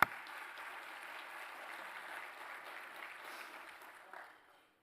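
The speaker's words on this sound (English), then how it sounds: "So let's give them a round of applause." A luncheon audience with legislators applauds the Chamber's innovation partners: soft, distant, steady clapping that tapers off and ends after about four seconds.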